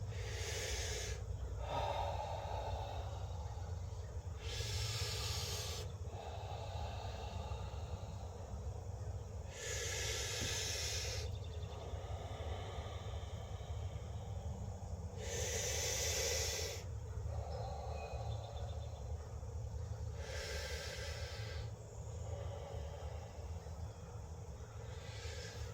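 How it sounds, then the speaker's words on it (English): Slow deep breathing during a stretching routine, five evenly spaced hissing breaths roughly every five seconds over a steady low background rumble, close and fairly quiet. "Take your deep breaths."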